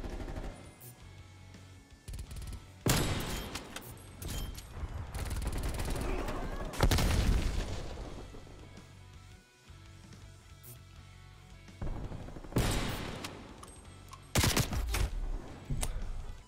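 Gunfire in a shooter video game, bursts of rapid automatic fire and single shots erupting in loud clusters separated by quieter stretches, close and punchy throughout.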